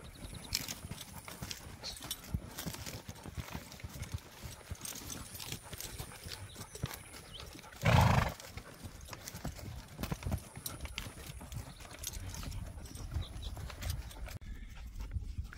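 A horse walks during an elk hunt, its hooves clip-clopping in a steady, even rhythm for the whole stretch. One brief louder thump sounds midway, and quiet outdoor ambience runs underneath.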